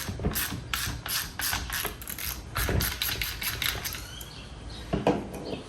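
A ratchet wrench on an 8mm bolt of the fan motor on a 2006 Subaru STI, a rapid close series of metallic clicking bursts with short pauses between them, with no talking.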